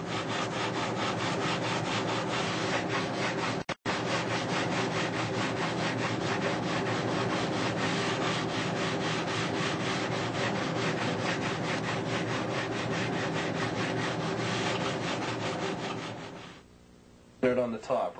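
Steady, continuous rasping of a sanding block with 400-grit paper against wooden wing ribs, a rhythmic back-and-forth scrub that runs almost without pause before stopping near the end.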